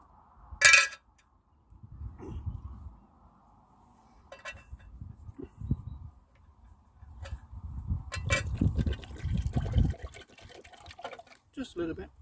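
Water poured into a Yugoslavian mess kit, a short run of liquid splashing with light metallic clinks, close by and moderately loud, set among pauses and handling noises.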